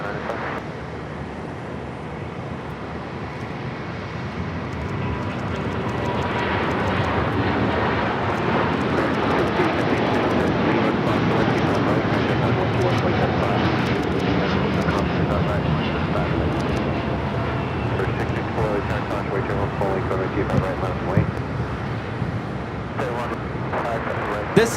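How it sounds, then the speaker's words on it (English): A Boeing 787-9 Dreamliner airliner takes off at Los Angeles airport, its engine roar swelling broad and steady, heard from a distance under continuous speech. "taking off to Tokyo Haneda on the 787-9 Dreamliner in the Star Wars R2-D2 livery"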